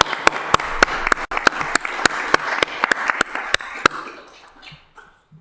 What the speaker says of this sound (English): I think Annapolis should give itself a round of applause.